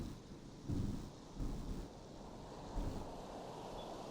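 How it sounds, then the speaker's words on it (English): Low rumbles of thunder from a bad storm outside, quiet and distant, swelling in three soft bursts over a steady windy, surf-like wash. "There's a really bad storm outside."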